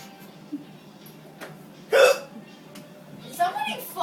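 A person hiccuping, with a sharp, close hiccup standing out among lively talk and small background noises in a home setting.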